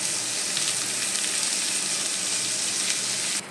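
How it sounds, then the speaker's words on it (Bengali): A pan of ivy gourd sizzles steadily with raw chickpeas just added, a dense, even frying hiss held close and loud throughout, cutting off abruptly at the end. "তো আমি এটার মধ্যে দিয়ে দেবো এখন একটু কাঁচা ছোলা"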